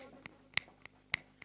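Sharp finger snaps, about five crisp clicks spaced irregularly over a second and a half, moderately close against a faint low background hum.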